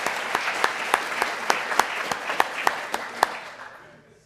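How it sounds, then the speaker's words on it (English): An audience applauds a long-married couple, Arnold and his wife Pat, at a local gathering: a short burst of scattered, fairly close claps with a few sharp accents, thinning out and fading near the end. "a round of applause for Arnold"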